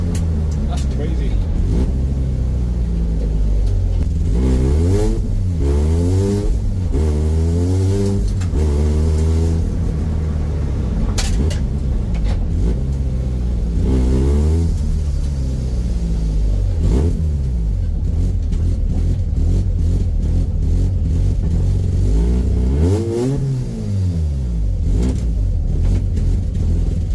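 A Mazda RX8 with a bridge-ported rotary engine and a 5.8 rear diff revs repeatedly, its loud, rough, choppy idle swelling into rising and falling throttle blips across the clip, close by and steady.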